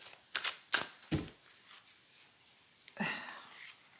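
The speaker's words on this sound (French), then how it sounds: "On va recouvrir nos 4 premières cartes." Tarot cards are handled on a table in a few quick, close papery swishes and slaps separated by pauses, with a soft murmur of breath between them.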